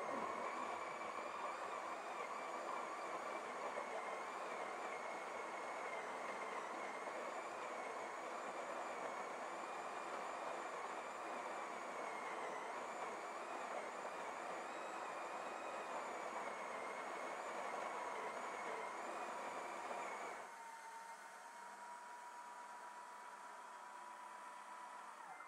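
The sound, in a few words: coffee grinder running on an EcoFlow Delta power station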